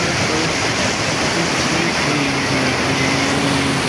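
Ice-cold, clear stream water rushing through the Kashmir mountains, a steady loud broadband flow without pause, with a voice faintly audible underneath.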